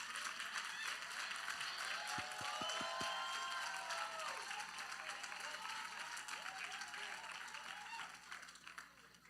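A church congregation claps and cheers to celebrate military members, a broad crowd applause that holds steady and then slowly fades, with a few sharp sounds near the start.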